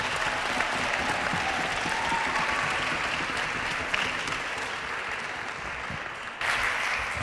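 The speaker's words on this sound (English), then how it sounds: "So please give one more round of applause for all debaters in the final." An audience at the final of an international school debate tournament gives a sustained round of applause for the debaters, a dense and steady wash of clapping filling the room, briefly dipping near the end before resuming.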